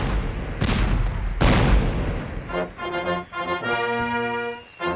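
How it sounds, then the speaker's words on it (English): Cannons boom in a 500-gun salute to the president in 1865 in a film, two loud heavy blasts followed by swelling music with tones. "We awoke to the sound of a cannon."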